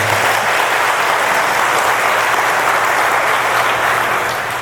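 A congregation at a Buddhist dharma service in a Seoul temple gives a big round of applause, loud, dense and continuous clapping that eases slightly at the close.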